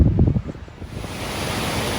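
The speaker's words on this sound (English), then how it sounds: "Well, this is Tungelschutz, a massive waterfall." The massive Tungelschutz waterfall in the Lauterbrunnen valley roars as a broad, steady rush of falling water, loud and continuous, with some wind buffeting the microphone at the start.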